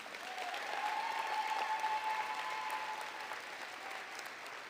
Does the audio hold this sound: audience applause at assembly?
yes